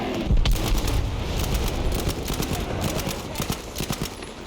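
Rapid automatic MP40 submachine gun bursts in the Battlefield 5 game, dense and close, with overlapping shots and booms through the whole stretch and only faint talk beneath.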